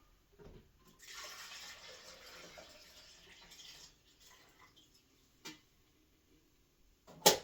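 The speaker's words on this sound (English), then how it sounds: "Water into the machine here." Water pours into a machine in a home kitchen: a steady rushing stream for about three seconds, then quieter trickles and a few sharp clunks and taps near the end.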